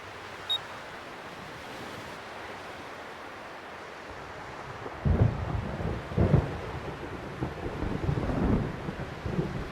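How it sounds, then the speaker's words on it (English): Weather on a beach in the Xenosaga video game: steady wind hisses, then about halfway through low thunder rumbles roll in as several heavy surges. No voices are heard. "I hate thunder."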